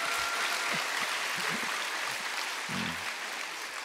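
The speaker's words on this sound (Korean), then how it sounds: "박수 한번 쳐주세요." A church congregation at a Wednesday worship service applauds, a steady, fairly faint wash of clapping spread through the room, with a few low voice murmurs beneath it.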